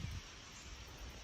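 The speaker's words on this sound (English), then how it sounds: "it's kind of windy out here today" Wind blowing outdoors near a fire, a steady soft rush with faint leaf rustle, low and continuous throughout.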